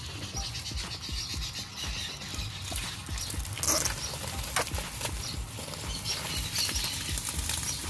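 A special homemade water pump draws water and sand up from the bottom of a container, giving a steady busy mechanical whirr and rattle with fast ticking patter, close and continuous.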